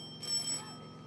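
A small hand bell rung once to summon a servant during a school one-act stage play, a short bright metallic ring that quickly fades.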